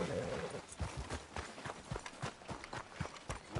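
Horse hooves clip-clop at a steady walking pace in the video game Red Dead Redemption 2, close and fairly soft, with faint voices underneath.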